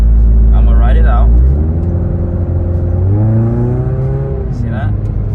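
A 2011-2015 Scion tC engine revs loudly and holds rising pitch without a gear change, as its transmission fails to shift after a road trip; a steady whir continues after an initial deep roar.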